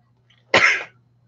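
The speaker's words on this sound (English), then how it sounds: "Had to turn away and sneeze." A single sharp sneeze bursts out nearby, loud and abrupt, then tails off over about half a second against a faint steady hum.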